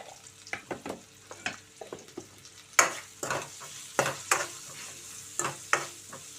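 Onions sizzle with salt in a pan for brinjal curry while a spoon stirs them in irregular scraping strokes, close and clear over a soft frying hiss.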